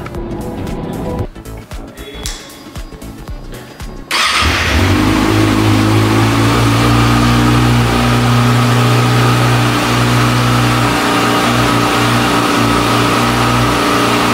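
A 2019 Kawasaki ZX6R motorcycle cranks with a rough starter churn, then catches and settles into a loud, close idle with a steady exhaust drone that holds for about ten seconds.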